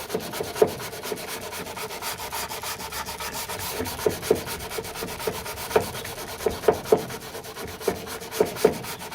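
Hand sanding of body filler on a Mk2 Ford Escort door sill with 80 grit paper, a steady scratchy rubbing with irregular sharper strokes, close and moderately loud, no voices.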